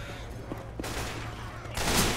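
Gunfire in the video game Left 4 Dead 2, a dense burst of rapid shots in a sustained fusillade with a louder volley near the end.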